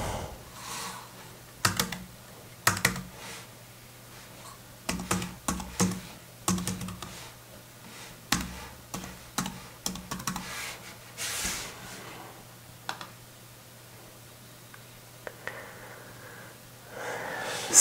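A password is typed on a computer keyboard at a home office desk, with clusters of sharp key clicks and taps coming in uneven bursts against a quiet low hum.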